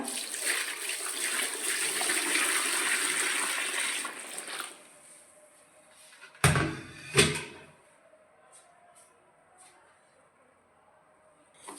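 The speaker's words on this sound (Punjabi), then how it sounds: "ਆਪਾਂ ਨਾਰਮਲ ਜਿਹਾ ਪਾਣੀ ਜਿਹੜਾ ਟੱਬ 'ਚ ਲੈਤਾ" Plain water poured into a tub to soak white clothes: a steady rush of pouring for about four seconds, then quiet broken by two sharp knocks and a few faint taps.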